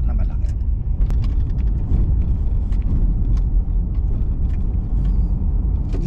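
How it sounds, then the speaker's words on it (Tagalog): Steady low rumble of a car's engine and road noise from inside the vehicle as it passes a large truck at night, a loud continuous drone with occasional faint clicks and rattles. "lalampasan ko muna itong truck na malaki"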